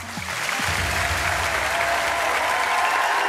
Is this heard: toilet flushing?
no